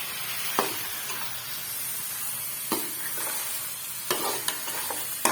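Potatoes and mongray (radish pods) fry in masala in a pan with a steady close sizzle, broken by several short scraping stirs of a spoon.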